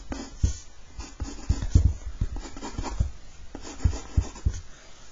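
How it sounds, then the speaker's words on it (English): A pen scratches and taps on paper drawing a cube sketch, a busy run of short strokes and light knocks with steady, fairly close rhythm, no speech. "if we just draw maybe a sketch here just to show it"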